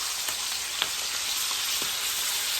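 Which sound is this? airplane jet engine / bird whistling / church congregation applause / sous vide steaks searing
sous vide steaks searing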